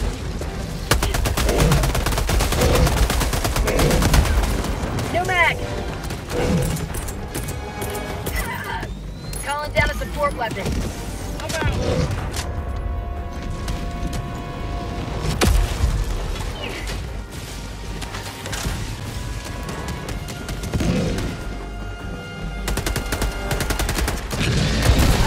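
Gunfire rattles through a Helldivers 2 battle, with bursts and scattered shots, explosions and crashes over a dense, loud game soundscape as players talk throughout.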